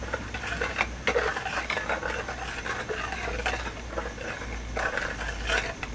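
A drink mixture with baking soda being stirred, soft repeated clinking and scraping of a utensil in a container at a steady rhythm, close and fairly quiet.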